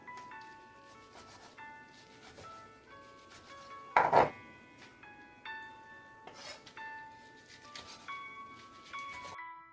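A knife slices ingredients for a bulgogi marinade on a board, a quiet, irregular series of soft chopping taps with one sharper knock midway, while faint melodic background music runs underneath.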